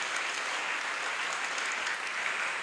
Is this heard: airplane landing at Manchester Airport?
no